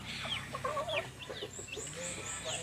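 A 1-month-and-1-week-old Rhode Island Red chick clucks and chirps in quick, high peeping calls, fairly close and steady against a low background hum.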